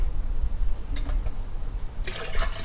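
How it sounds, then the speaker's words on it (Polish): Warm water poured into a Frania washing machine, a short splashing gush that starts near the end after a quiet stretch with faint knocks. "Do tego jeden litr ciepłej wody."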